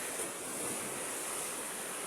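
Moderate sea waves wash in a steady, soft hiss of surf, faint and continuous, with a touch of wind noise.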